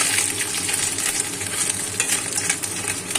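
Bengali puri frying in a pan of hot oil, a steady dense sizzle that holds loud and close throughout with no talking.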